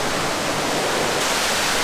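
Creek water rushing steadily along a rocky trail in a state park's waterfall area, a dense, continuous wash of flowing water close by with no voices.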